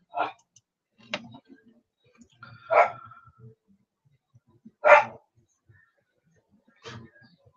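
A stubborn pet dog barks in a few separate short bursts with quiet gaps between them, heard indoors at moderate distance.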